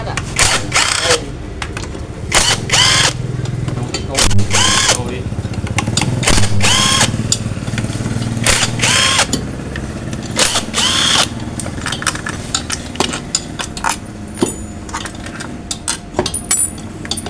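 A power tool whirs in short, repeated bursts as it removes the CVT cover bolts on a Honda Vario 150 scooter, with clicks and knocks between runs and someone talking at times.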